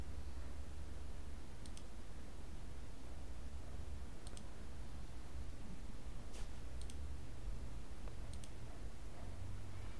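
Sparse, faint computer mouse clicks, single and doubled taps at irregular intervals, over a quiet background hum.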